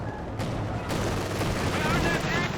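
Automatic gunfire from an M15 half-track in the World War II strategy game Company of Heroes 2, a dense continuous battle din of shots and rumble layered with other game effects at steady loudness.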